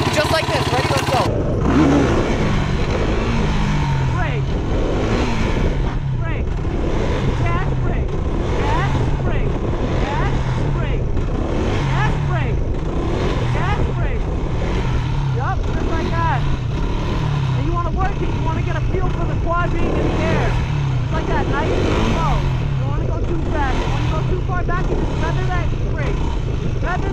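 An ATV engine revs steadily and loudly while the rider holds a wheelie, the drone continuing without a break for nearly half a minute. Someone talks over the engine throughout.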